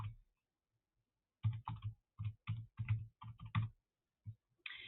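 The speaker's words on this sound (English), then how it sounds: "And then I'm going to type my name in here." Keys tapped on a computer keyboard while a name is typed, a quiet run of about a dozen distinct clicks in irregular bursts, each with a soft low thump, close and alone with no talk.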